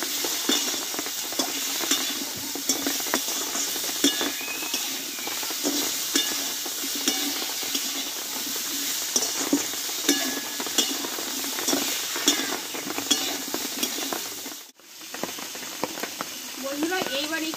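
Chopped tomatoes with salt fry in a pan for a spiced-free vegetarian curry, giving a continuous loud sizzle and hiss with frequent spoon scrapes and clinks. Near the end the sound briefly drops out before the frying resumes.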